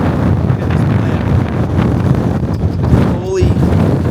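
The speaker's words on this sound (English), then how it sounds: "this is so windy" Strong wind at a foggy coastal lighthouse buffets the microphone in a constant loud roar, with a brief faint voice and a short squeak near the end.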